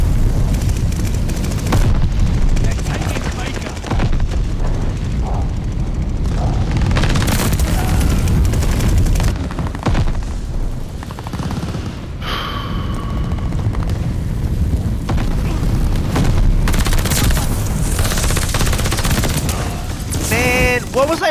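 Gunfight in Call of Duty: Vanguard on the Das Haus map, with dense booming gunfire and bursts of automatic fire running loud and continuous throughout, a few sharper cracks and explosions standing out, and some voice chat mixed in.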